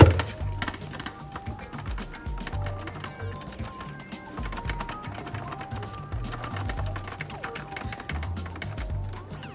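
Hard clattering and rattling taps from a computer hard drive loose in its bay, its screws missing rubber protectors, repeat irregularly over a low mechanical hum, close by and moderately loud.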